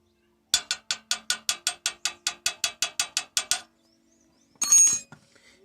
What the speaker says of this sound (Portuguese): Andando na terceira e na quarta marcha, ele começa a trincar, a ficar batendo.